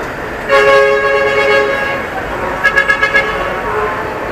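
Car horns honk in congested traffic in Quiapo, Manila: one long blaring toot, then a quick series of short honks, loud and close over a steady road hum, with someone talking.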